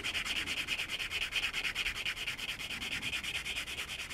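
A part from a Tamiya 1/12 Yamaha YZR-M1 model kit being sanded smooth, a close, rhythmic scratchy rubbing of quick back-and-forth strokes, steady and unbroken, with no voices.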